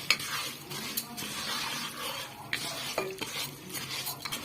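Barley-shaped orzo pasta toasts in olive oil with a little salt, stirred in a pot with repeated scraping strokes and clinks of the spoon over a soft, steady sizzle.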